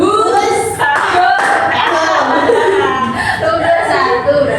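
Children clap their hands together in a classroom clapping game, a busy clatter of claps mixed with chatter, giggles and young voices talking throughout.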